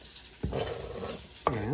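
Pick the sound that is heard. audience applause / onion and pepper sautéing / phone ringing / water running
onion and pepper sautéing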